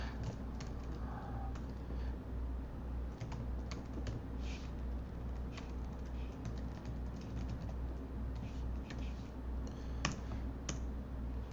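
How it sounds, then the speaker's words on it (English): Steady clicking of keys on a computer keyboard while code is edited in Visual Studio Code on a Mac or Linux machine, continuous and close, over a low background hum with no talking. "I can start editing and typing away"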